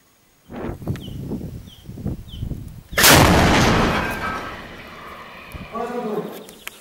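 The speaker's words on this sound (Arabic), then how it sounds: "استهداف مقر الشبيحة في جبل دورين بقذائف مدفع مدفع جهنم" A heavy booming blast of improvised 'hell cannon' artillery fire that rumbles and decays for several seconds, preceded by a few thuds and followed by people talking, in the Latakia countryside, Syria.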